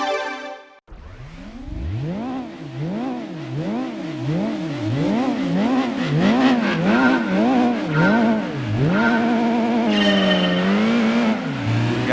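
A race car engine revs hard through the gears in Gran Turismo, loud and close, rising and dropping in repeated sweeps as it accelerates, with a sharper whine building toward the end.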